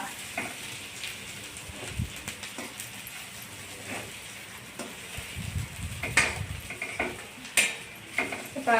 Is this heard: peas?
yes